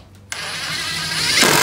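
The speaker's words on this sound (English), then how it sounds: "I've also got an extension for my driver, which will reduce the chances of me stripping this out like I did with the last one" A power screwdriver fitted with an extension drives a screw into a roller door, its whirring motor starting abruptly and running steadily, rising slightly in strength toward the end, alone without talk.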